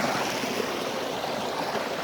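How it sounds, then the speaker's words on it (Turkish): A village stream flowing downhill gives a steady, close, broadband rush of water that stays even throughout, with no speech. "Yukarıdan böyle geliyor dere. Bu şekilde. Aşağılara doğru gidiyor."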